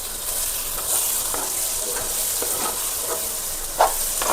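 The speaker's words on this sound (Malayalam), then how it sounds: "നമുക്കതിന് പതുക്കെ ഇളക്കി യോജിപ്പിക്കാം." Garlic egg fried rice sizzles steadily in a pan while a utensil stirs it, giving soft irregular scrapes over a constant frying hiss.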